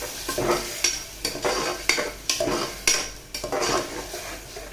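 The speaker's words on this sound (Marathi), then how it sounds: "वाटण त्याला चांगलं एकत्र करायचं" Ground masala paste being stirred in a pan for chicken biryani, with a spoon scraping in repeated, rhythmic strokes about once a second over a steady close sizzle.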